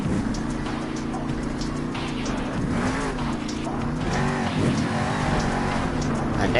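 Soldier Fortune monster truck roaring around an indoor Monster Jam arena floor in Salt Lake City, its loud engine droning continuously with a rising, revving pitch toward the end, amid arena noise.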